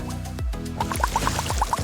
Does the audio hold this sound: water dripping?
yes